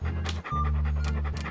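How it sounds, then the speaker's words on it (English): Short bursts of panting from Walt, the guard dog in Monkey Island 2, sit over a steady synthesized game tune, the breaths coming in quick repeated puffs without any speech. "What a ferocious-looking dog."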